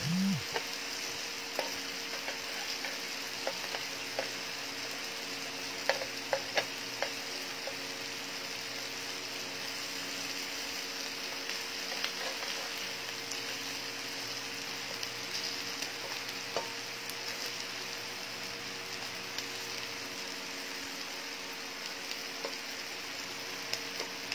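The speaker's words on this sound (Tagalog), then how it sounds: "Ang ating lechon na meron siyang tanglad po. Crispy fry natin." Lechon belly with lemongrass deep frying in oil, a steady soft sizzle and fine bubbling hiss that holds evenly throughout, with a few faint clicks and pops and no talking.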